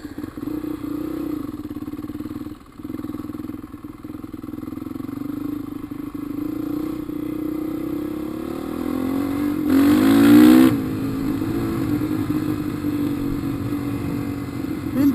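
Dirt bike engines on a riding track, a steady buzzing drone that swells into a louder revving pass before settling back to a distant hum.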